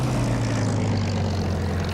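A Spitfire's piston aircraft engine in the DCS flight simulator drones steadily, a low, even propeller hum held at constant loudness through a short stretch with no talk.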